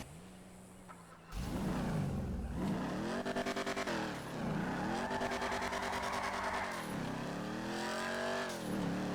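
A Phoenix classic muscle car in GTA Online revs hard and close, its loud engine note rising and falling through several throttle sweeps after a quiet start, with a steady roar lasting to the end.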